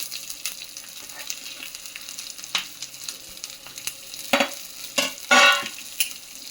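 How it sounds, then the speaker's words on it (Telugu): Green chillies and curry leaves sizzle in tempering oil, a steady low frying hiss broken by sharp crackling bursts and spatters that grow louder toward the end, close up with no talk. "తిప్పిన తర్వాత సన్నగా తరిగి పెట్టుకున్న పచ్చిమిరపకాయలు కూడా దీంట్లోనే వేసేసుకోవాలి."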